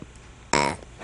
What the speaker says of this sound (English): So you just belch like that.